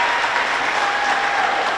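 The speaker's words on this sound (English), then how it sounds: "a nice applause for that dive by Sadie Him" Spectators applauding a dive at a girls' varsity swimming meet, a continuous, even wash of clapping that fills the space, fairly loud and steady with no talk.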